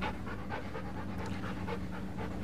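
A dog pants rapidly and steadily close by, in quick rhythmic breaths over a quiet indoor room.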